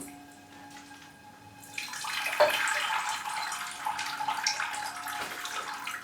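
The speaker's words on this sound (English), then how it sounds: "just give it a quick water, as I've got some sitting there" Water poured onto a freshly repotted potted plant starts after a quiet moment and continues as a steady, close splashing trickle with no talking.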